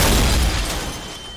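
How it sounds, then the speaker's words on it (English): A violent explosion in a cemetery blasting apart headstones, a loud deep boom that rumbles and decays over about a second. "And a violent explosion."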